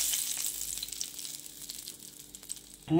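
Curry leaves sizzling in hot oil as a tempering for garlic chutney, a steady bright crackle and hiss throughout, close and continuous, with a louder burst of spattering at the very end.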